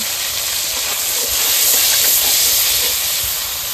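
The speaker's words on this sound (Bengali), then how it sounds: "এবার এই আদাটা ফোড়ন দিয়ে দিচ্ছি।" Ginger sizzles in hot oil as a tempering step in a Bengali ISKCON-style dish, giving a loud, continuous hiss that swells slightly in the middle and never lets up.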